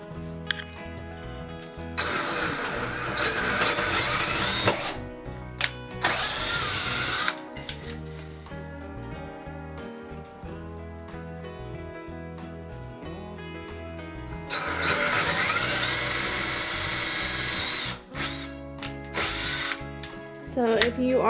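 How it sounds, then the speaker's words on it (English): A power drill with a 3/16 bit whines loudly in two long bursts, spinning up and biting into a cabinet, with quieter mechanical rumbling between them. "I'm using a 3/16 drill bit. I have my drill on"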